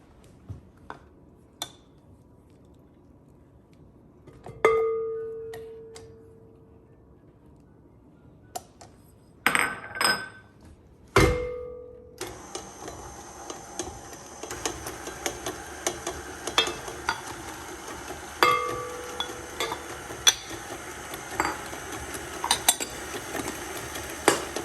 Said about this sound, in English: we're going to begin by creaming together our butter and sugar